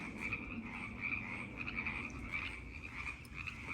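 Frogs croak near a pond with tadpoles, a faint, steady chorus of rasping calls trilling continuously at a distance with no voices.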